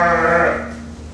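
A single sheep bleats loudly and close by in a school farm sheepfold holding 150 ewes of three breeds, one wavering, drawn-out call that fades away.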